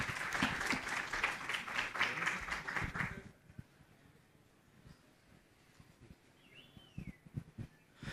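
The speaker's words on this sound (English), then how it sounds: "please give Evan a big round of applause" Conference audience at Pragma Singapore breaks into dense, fairly loud applause for about three seconds, then it fades to a quiet room with scattered faint claps.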